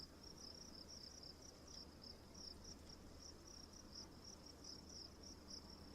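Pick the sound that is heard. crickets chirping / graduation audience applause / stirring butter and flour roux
crickets chirping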